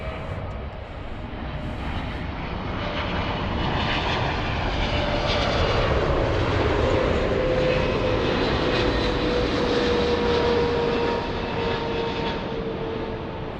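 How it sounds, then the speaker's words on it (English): A Turkish Airlines airliner touching down at LAX makes a strong, sustained jet roar with a high whine sliding downward as it passes close and rolls out, with no voices over it. "Very, very, very smooth touchdown there by Turkish, giving those passengers something to remember the airline by."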